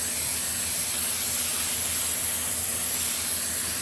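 An Iwata LPH 400 airbrush spraying blue candy paint, a steady close airy hiss that holds unbroken throughout without talk.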